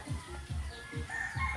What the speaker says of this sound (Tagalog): Para dito sa aking mga manok.